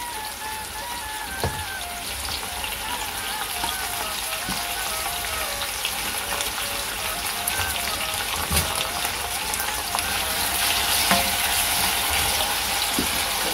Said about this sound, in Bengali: পাশাপাশি এখানে আমার মাছটা ভাজি হচ্ছে, এই মাছটা আমি রান্না করব।